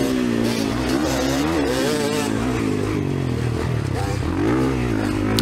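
A 2024 Kawasaki KX450 dirt bike engine screams close by during a 50-plus motocross race, revving up and down under throttle control in a continuous loud, rising and falling whine.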